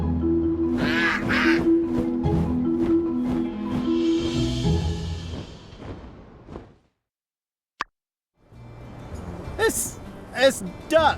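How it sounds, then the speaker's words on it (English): A duck in the game My Time at Sandrock gives a run of quick nasal quacks among other voices, then a few seconds of near silence with a single tick, followed by more brighter calls. "It's duck."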